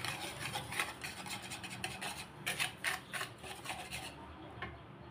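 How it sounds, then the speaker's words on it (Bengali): Sugar and salt are stirred together in a bowl, giving a quiet, gritty scraping and rubbing with short rhythmic strokes close up, steady for a few seconds and then easing off. "এখন চিনি আর লবণ ভালো মতো একটু মিক্সড করে নিতে হবে"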